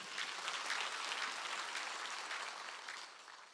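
A church congregation at Sunday worship claps together, a fairly faint, dense spatter of hands heard from some distance, steady for about three seconds and then tapering off.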